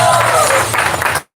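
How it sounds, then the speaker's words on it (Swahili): A church congregation in Nairobi claps and murmurs in a short, full burst of applause that cuts off abruptly after about a second. "Wapi makofi ya shokora?"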